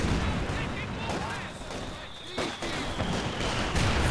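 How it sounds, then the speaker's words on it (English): Grenade blasts and gunfire in a Company of Heroes 2 battle, a dense, continuous rumble of explosions and shots with a few sharper bursts, loud and busy throughout. "Just throwing grenades left, right, and center."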